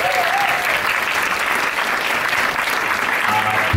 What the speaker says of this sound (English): Give another round of applause for the guys from Ruff.